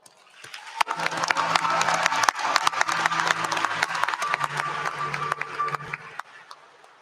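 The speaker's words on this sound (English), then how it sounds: "let's please applaud for all those who supported you along the way" A large commencement ceremony audience bursts into sustained applause, dense overlapping claps swelling quickly and holding steady for several seconds before tapering off, with a low hum underneath.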